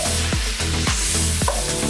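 Shallots and spring onions hit a hot pan with aromatics for Mongolian lamb, sizzling loudly and close while a utensil scrapes and stirs in several quick, regular strokes.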